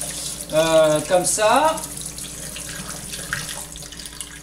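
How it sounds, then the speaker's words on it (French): Cold tap water runs into a container while kefir grains are rinsed, a close splashing stream with shifting gurgles early on, then a softer flow, with a brief spoken remark. "vais rincer à l'eau froide mon récipient. Et je vais aussi rincer mes graines."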